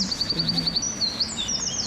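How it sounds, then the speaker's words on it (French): Small birds chirp and tweet in quick repeated high calls, overlapping and fairly near, along a disused railway line in Paris with no talking. "On entend les petits oiseaux."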